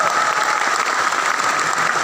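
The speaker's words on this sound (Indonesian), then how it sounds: "Tepuk tangan." A crowd at the KMHDI national coordination meeting (Rakornas) in Palangka Raya claps together in a brief, thick burst of applause that holds at full strength throughout.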